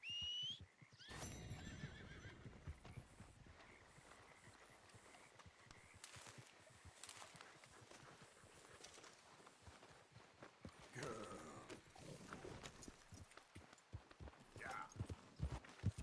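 Horse in Red Dead Redemption 2 whinnying near the start, followed by scattered clip-clop hoofbeats and movement noises at low level, with brief game sounds around them.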